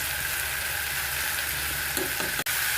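Garlic and ginger paste frying in a pan for chowmein, a steady close sizzle throughout with a brief clatter near the end.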